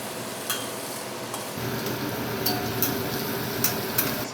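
An onion-tomato masala for biryani is stirred in a pot with an even, continuous motion, a close frying hiss with occasional light clinks of the spoon against the metal.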